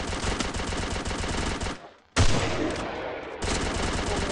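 Rapid automatic gunfire from a shooting video game, loud and dense, breaks off in a short gap and then resumes in sustained bursts.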